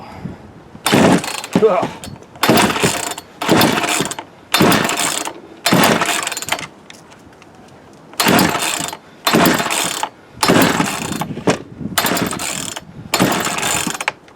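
A Poulan 36cc Wild Thing chainsaw is yanked over and over by its pull cord, about ten rasping bursts of ratcheting starter noise separated by brief pauses, close up, never catching, with one groan of frustration.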